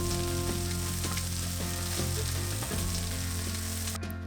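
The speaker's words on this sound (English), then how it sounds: "Then add in the onions and carrots. Stir fry for a few minutes or until the onions are translucent." Onions and carrots stir-fried in a hot pan make a loud, dense, constant sizzle with light stirring taps, over a steady tonal hum that cuts off near the end.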